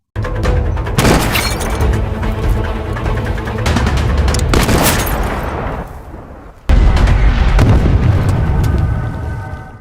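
A soldier in a war film fires a gun at a mirror, and loud gunfire mixes with shattering glass in a dense, sustained roar. A brief drop is followed by another sharp, heavy burst.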